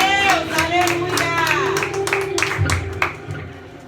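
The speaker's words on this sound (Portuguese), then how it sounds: "E as palmas são para o nosso Senhor" Church congregation clapping in rhythm during a worship service, a run of quick hand claps up close while a voice carries on speaking over them.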